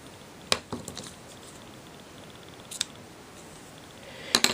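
Scissors snip through card in a few sharp, close cuts, two single clicks early and in the middle and a quick double snip at the end, over quiet room noise.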